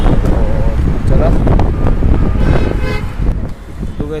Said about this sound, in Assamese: সাগৰ ঢৌ আহি আছে অলপ চলপ, আৰু বতাহ ইমান ধুনীয়া বতাহ বলি আছে